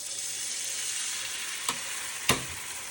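A small pecan pancake fries on a griddle with a steady, close hiss. Two sharp clicks or taps sound near the end.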